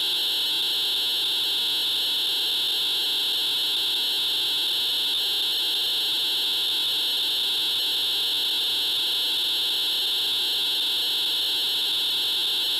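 A Teenage Engineering PO-32 Tonic pocket operator sends data as audio: a steady, loud, shrill high tone with a dense buzzing texture holds unchanged and unbroken for about thirteen seconds.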